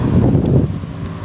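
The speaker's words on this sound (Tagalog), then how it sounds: "Mahangin na yun, mahangin." Wind blows steadily across the microphone on a quiet street, a brief, fairly loud low rumble with no voices.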